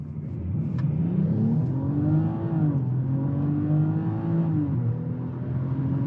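A 2021 BMW X5 45e launches from a brake-torque start, its engine and drivetrain whirring as the pitch climbs through gear changes, loud and steady from inside the cabin with no talk.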